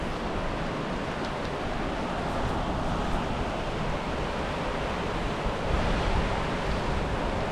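A large volume of rushing water along a bike trail, a loud, broad, unbroken roar of churning flow and waves, steady and close for the whole stretch with no voices.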